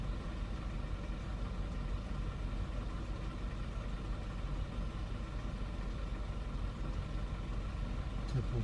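A Toyota Previa with a 2AZ-FE engine idles roughly, shaking, with its check-engine light flashing, after work on the lambda sensor and coolant temperature sensor. It gives a steady, low, even rumble at moderate distance.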